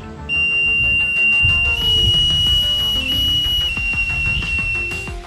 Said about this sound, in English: I used the output to test the intensity of the buzzer sound, and it was pretty good